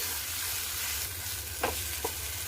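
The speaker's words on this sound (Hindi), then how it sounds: "इसे भी हम 1 से 2 मिनट प्याज और टमाटर के साथ भून लेंगे।" Garlic paste fries with onion and tomato in a pan, making a soft, even sizzle close by, with two brief scraping stirs near the end.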